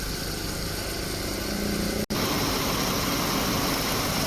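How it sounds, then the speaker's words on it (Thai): A Nissan car engine runs steadily at a constant idle after an R134a air-conditioning service, a loud continuous rumble that cuts out for a split second midway before resuming. "ดูเสียงสภาพเครื่องยนต์นะฮะ"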